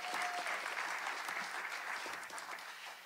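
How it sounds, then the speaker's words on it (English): Live concert audience applause, a soft continuous wash of clapping heard at a distance, steady and gradually tapering toward the end. "Ben Russo, who also deserves a round of applause"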